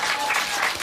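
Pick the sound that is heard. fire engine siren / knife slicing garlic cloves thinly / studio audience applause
studio audience applause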